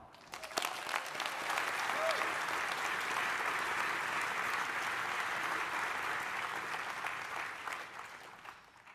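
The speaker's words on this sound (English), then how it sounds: "Let's give a round of applause to the engineers, scientists, and administrators that have kept that beacon of collaboration alive." An audience gives a round of applause for engineers, scientists and administrators, a sharp start swelling into steady, dense clapping that tapers off near the end.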